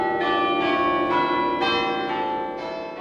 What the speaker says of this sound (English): Today in Wrexham, as church bells rang out to mark King Charles's accession